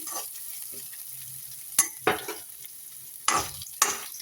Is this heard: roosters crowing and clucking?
no